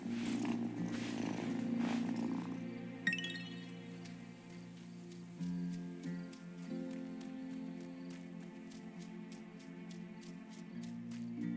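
A cat in the video game Wylde Flowers purrs in a low, steady rumble, loud at first and then fading, while soft game music chimes along throughout.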